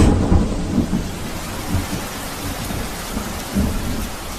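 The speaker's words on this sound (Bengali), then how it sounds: "এমন সময় বাইরে আবার ঝমঝম করে বৃষ্টি নামল।" Heavy rain pours steadily outside with low rumbling thunder, a dense, loud, continuous wash of sound with no voices, used as a radio drama effect.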